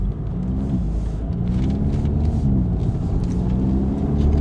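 A Volkswagen GTI with an MBRP 3-inch cat-back exhaust pulls onto a highway under mellow acceleration, its steady droning exhaust rumble rising gently and continuously from inside the car.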